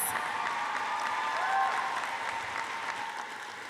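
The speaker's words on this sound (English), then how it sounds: "Let's give a huge round of applause for our new master's, doctorate, and professional degree holders." A graduation ceremony crowd applauds new master's, doctorate and professional degree holders, a steady round of clapping from a large audience heard at moderate distance, with some cheering mixed in.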